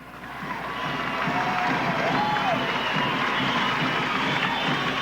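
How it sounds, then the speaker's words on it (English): The crowd at a 1979 Parents Night high school basketball game, Morton Potters against Rockford East, fills a gym with a dense, steady roar of voices and cheering that swells after the first second and holds. "as you can tell by the crowd noise"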